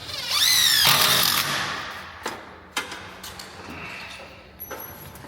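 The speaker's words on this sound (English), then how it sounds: "Getting the angle into the tail of the shed rafter to add more strength using a 3-inch screw." A power drill drives a 3-inch screw at an angle into the tail of a cedar shed rafter, with a loud whirring burst that winds down, followed by a few sharp knocks and thuds nearby.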